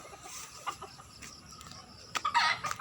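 Chickens cluck near a house in short, scattered bursts, with a louder flurry toward the end over quiet outdoor background.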